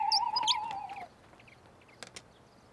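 A bright, warbling whistle blown to imitate bird chirps trills for about a second with a few high chirps, then gives way to quiet with faint ticks.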